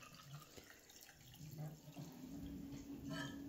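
Warm water, heated in a small stovetop pot, pours into a cup of oil, vanilla sugar and sugar while making sultan's-cap doughnut dough, a soft steady trickle heard fairly close and faint.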